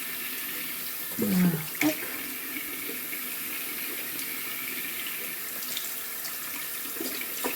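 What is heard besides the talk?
tap water rinsing face after makeup removal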